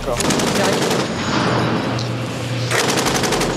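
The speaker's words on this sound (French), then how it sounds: "Un tir à balles réelles au canon de 20 mm." Rapid automatic fire from a 20 mm naval cannon aboard a warship, live rounds in a sustained burst of dense, loud reports that pauses briefly and then resumes, with no voices.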